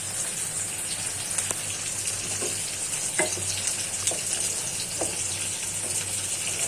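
Spinach and paneer fry steadily in a pan, a constant close sizzle with faint stirring clicks and scrapes over a low hum, no voices.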